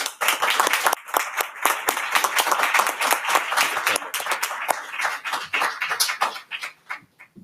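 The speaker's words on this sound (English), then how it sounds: "please join me in a round of applause for those family, friends, and loved ones joining us today" Audience at a graduate hooding ceremony applauds the graduates' families with dense, energetic clapping from many hands that tapers off toward the end.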